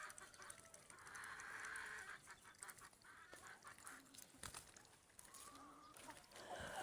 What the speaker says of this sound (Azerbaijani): Baxın, bu da öz xoruzum.